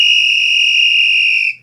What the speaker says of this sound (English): I'm going to blow the whistle just for demonstration.